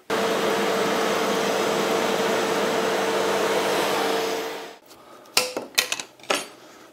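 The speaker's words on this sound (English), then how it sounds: "I'm now going to take it to the CNC, do the lettering." A CNC machine with a 60 degree V cutter carves lettering into a small piece of wood for a bookend, giving a loud, steady roaring whine for nearly five seconds before it stops, followed by a few sharp knocks.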